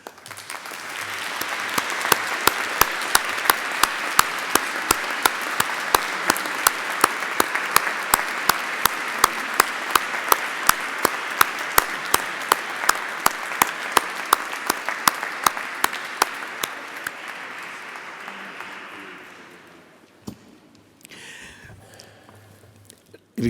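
A congregation in a cathedral applauds during a solemn Christmas Mass, broad reverberant clapping with one sharp rhythmic clapper standing out, fading out near the end before a brief quiet.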